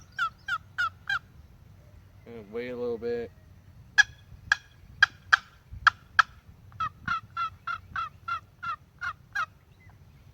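A hunter's call imitates a hen turkey with a series of sharp, evenly spaced yelps, and a lower gobble-like burst comes in between. Someone speaks briefly near the end of the calls.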